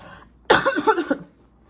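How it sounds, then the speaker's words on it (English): A single close, throaty cough with a few rapid rough pulses, heard alone against quiet room noise. "I have to cough."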